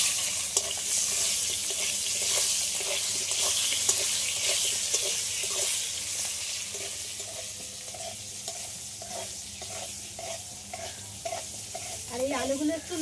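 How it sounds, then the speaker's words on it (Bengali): Small diced potato pieces sizzle and fry in hot oil, a loud, steady crackling hiss that runs throughout, with faint stirring scrapes near the end. "এই আলুটা এবার আমি ভেজে নেব"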